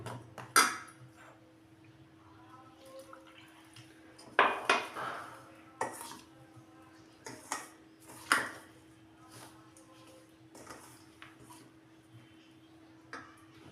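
A spoon or whisk clinks against a bowl as batter is mixed with cold milk. The taps are sparse and fairly quiet, with a few sharper knocks and a low steady hum behind them.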